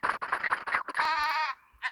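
Sheep bleat in the Wildcraft video game: a string of short, choppy animal calls, then one long, wavering bleat that tails off, with a brief call at the end. The sounds are loud and close.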